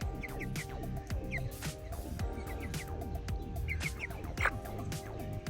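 Chickens and other fowl cluck and chatter inside a coop, a busy, close layer of overlapping calls and squawks with scratching and shuffling throughout.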